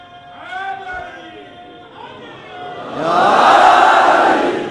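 A large crowd at a Muharram religious gathering roars the Naara-e-Haidari slogan in unison, a loud, sustained swell of shouting that bursts in after a man's spoken address.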